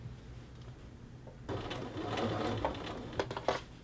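A sewing machine stitches a men's shirt collar band, running quietly at first and then picking up into a steady, close mechanical whir with faint clicking.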